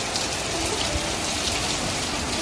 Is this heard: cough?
no